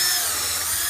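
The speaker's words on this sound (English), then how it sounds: "I went from an impact driver to a drill" Power drill driving screws into a wooden garden box, a continuous high-pitched whirring motor whine held steady for a second, loud and close, with no talk.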